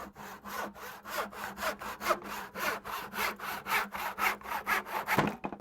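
A hand saw cuts wood held against a bench hook in steady, even back-and-forth strokes. About a dozen rhythmic rasps sound up close, loud and unbroken, and finish with a final scrape and clunk, with no talking.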